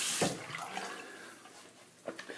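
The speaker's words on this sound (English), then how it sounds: "Just going to rinse this off." A safety razor rinsed under running water, a brief splash followed by a soft steady flow with small gurgles near the end, close and quiet, no speech.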